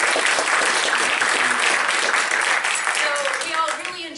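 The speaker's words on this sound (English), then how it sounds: "everybody was clapping and responding very well" An audience at a foreign-affairs talk applauds in a loud, dense wash of clapping that tapers slightly toward the end, with voices faintly underneath.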